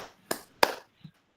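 A "tepuk rimba" hand-clap demonstration: two sharp, close claps in quick succession, then a softer third tap, with no talking in between.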